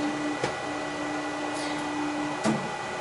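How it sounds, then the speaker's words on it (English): Ri2000 printer running print head maintenance, a steady mechanical hum with faint tonal whine and two brief knocks, close and with no talk. "The machine is going to run a small maintenance."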